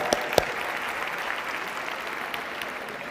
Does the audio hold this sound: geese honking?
no